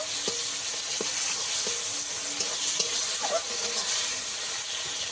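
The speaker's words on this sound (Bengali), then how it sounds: "আদা আর টমেটো ভালো করে একটু কষিয়ে নেব।" Ginger paste and tomato sautéing in a pan, giving a continuous bright sizzle with light spoon stirring and small clicks over it and no talking.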